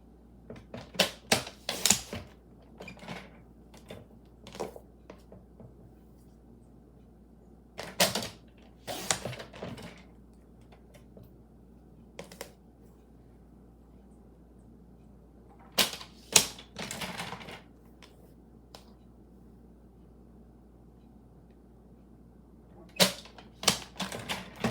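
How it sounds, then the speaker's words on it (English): A paper trimmer slices Glimmer paper in a series of sharp clicks and quick blade strokes, clustered in short bursts separated by quiet pauses. "Now I just want to get my paper trimmer."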